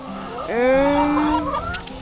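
An old hen of around six to eight years on a farm gives one drawn-out, rising vocal call, loud and close over steady outdoor background noise.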